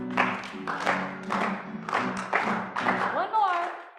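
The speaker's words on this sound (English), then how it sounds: "Clap it out." An audience claps in a regular rhythm of sharp, evenly spaced bursts, with voices calling out and talking over the beat.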